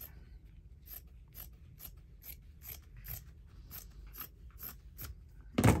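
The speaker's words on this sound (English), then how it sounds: "This is how I cut." Scissors cutting paper for a deep book spine: a dozen crisp, evenly spaced snips close by, ending in a louder rustle.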